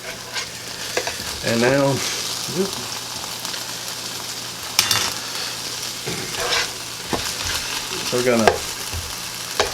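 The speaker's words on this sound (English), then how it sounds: "That's good and stirred in there." Spam, peppers and onions for breakfast fajitas sizzle and fry in a pan while a utensil stirs and scrapes through them, close and steady, with a person speaking briefly over the cooking.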